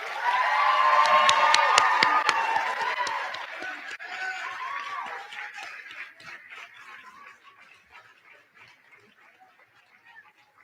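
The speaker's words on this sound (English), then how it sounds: "You can now give everyone a round of applause." Audience applause and cheering at a practical nursing pinning ceremony, dense and loud at first with sharp claps, then fading gradually to scattered clapping and murmur by the end.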